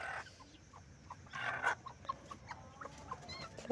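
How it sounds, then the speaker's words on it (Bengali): Two hens being settled in the evening to brood eggs, giving soft, repeated short clucks at close range against a quiet background. "এই যে মুরগি দুটো নিয়ে এসে এবার বসিয়ে দেওয়া হলো"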